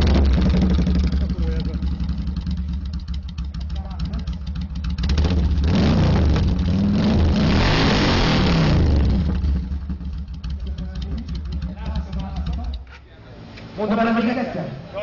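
Motorcycle engines rev at a biker meet's sound contest beside a lake, a loud, sustained roar with throttle surges that dips near the end, while a crowd and an announcer's voice carry over it.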